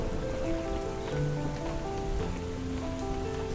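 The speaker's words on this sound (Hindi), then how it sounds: "जैसे ऊपर पैदल चढ़ने लगे तो बारिश शुरू हो गई" Steady rain falls on the hillside at Purandar Fort during the monsoon, a dense, even patter of drops throughout. Low rumbling background sound runs underneath, and no one speaks.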